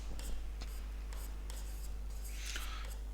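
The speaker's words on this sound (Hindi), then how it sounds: "जैसे मैं यहां पर लिख रहा हूं," A teacher writing on a board during an English grammar lesson, with repeated short scratchy strokes over a low steady hum.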